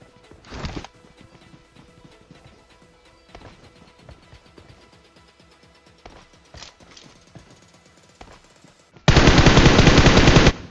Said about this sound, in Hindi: बहुत देर से गोलियां ही गोलियां चलाए जा रहा है